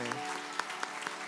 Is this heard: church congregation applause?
yes